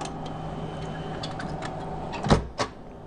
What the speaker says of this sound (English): Close the CPU door.